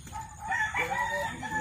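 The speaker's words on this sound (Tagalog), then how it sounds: "Ayan, mga manok ni Bossing." A rooster crows once, a drawn-out, wavering call rising and falling, fairly close with some outdoor background noise.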